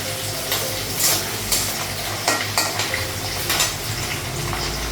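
Dry red chillies fry in a pan alongside cinnamon, onion and green chillies, making a continuous crackling sizzle with repeated scraping and clinking strokes of a spatula against the metal pan.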